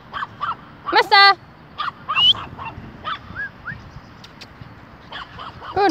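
Several dogs bark and yip in short bursts at a moderate distance, mixed with people talking and calling out nearby.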